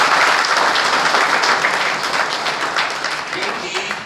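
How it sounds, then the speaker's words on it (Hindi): Loud applause from a crowd gathered for a motivational talk in Latur, a dense burst of clapping with voices mixed in that gradually thins and fades toward the end. "इनके लिए तालियां।"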